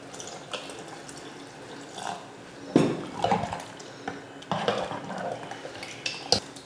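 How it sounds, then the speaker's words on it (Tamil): Water poured into a pot of okra sambar, splashing and clinking against the metal pot in short bursts with a few sharp knocks, close and moderately quiet. "இப்போ தண்ணி சேர்த்துடலாம்."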